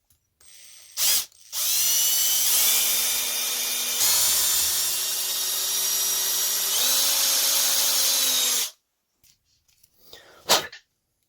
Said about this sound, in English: I'm going to drill it all the way through